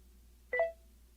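A single short electronic alert beep from trading software, a bright two-tone chirp standing alone against quiet background hum.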